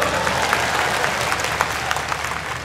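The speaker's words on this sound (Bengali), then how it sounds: "ওর জন্য এটা করে তালি দাও জোরে।" A crowd of listeners claps loudly and steadily at a motivational speech, a dense continuous patter of hands filling the short stretch with no talk over it.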